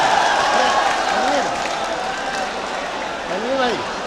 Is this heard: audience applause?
yes